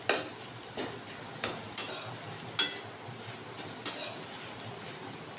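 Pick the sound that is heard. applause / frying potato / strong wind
frying potato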